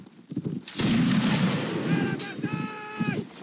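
A loud burst of massed musket volley fire erupts in a Mount and Blade Napoleonic Wars line battle at Waterloo, followed by scattered rumbling shots and a voice talking beneath the din.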